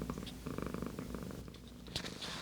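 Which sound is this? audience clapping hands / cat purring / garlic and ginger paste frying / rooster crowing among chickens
cat purring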